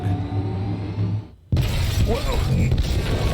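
Battering ram truck smashing through glass in Detroit: Become Human, a steady engine rumble cut off by a sudden loud crash and shatter, followed by rough mechanical noise.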